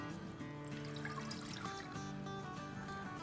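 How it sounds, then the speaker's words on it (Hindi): Two cups of water are poured into a pot on a stove set to medium-low, a soft, quiet trickling splash that runs continuously for a few seconds. "इसमें डालेंगे 2 कप पानी"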